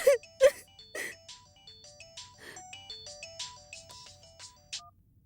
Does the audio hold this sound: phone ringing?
yes